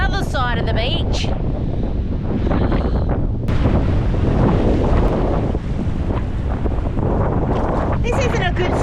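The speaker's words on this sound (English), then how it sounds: "It's too windy" Strong wind buffets the microphone on a beach while fishing, a loud roaring rush with surf beneath, and a person talks over it at the start and end.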